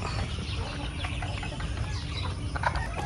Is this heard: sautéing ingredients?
no